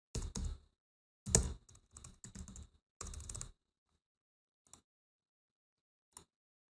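Computer keystrokes entering a chat command in a Roblox game come in quick close bursts of clicks, then a pause and two lone taps, with no voices.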